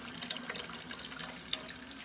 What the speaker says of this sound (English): can you turn the faucet on?